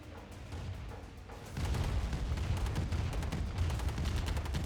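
Rapid gunfire crackles from sniping grenadiers in the game Tiberian Dawn Remastered. It sits under a steady game-battle din, then grows denser and louder partway through, with bursts of shots continuing to the end.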